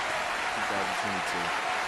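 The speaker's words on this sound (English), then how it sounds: "Nice round of applause for the show." Applause for a wrestling show rating rolls as a steady broadband wash through the whole moment, with a voice talking over it.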